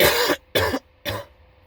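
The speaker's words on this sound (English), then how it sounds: "Sorry for coughing." Three harsh, rough coughs in a row, loud and close, each about a quarter second long with brief pauses between.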